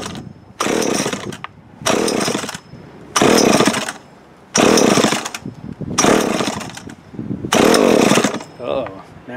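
A Remington Mighty Mite Deluxe MMD3 chainsaw engine revs loud and close in six repeated bursts, each roaring for about a second with short idle gaps between, and a voice is faintly heard at the end.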